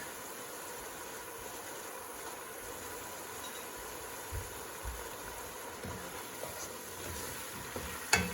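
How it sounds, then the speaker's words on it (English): Onions and celery cook in a pot with ground thyme for lentil soup, giving a faint, steady low sizzle with a few soft stirring knocks near the end. "our onions and celery are cooking, and here I'm just going to add some thyme, some ground thyme"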